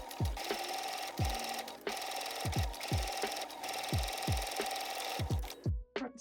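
A sewing machine runs steadily while stitching single fold bias tape onto an apron mock-up, a continuous whirring drone punctuated by regular low thumps, close and loud before stopping at the end.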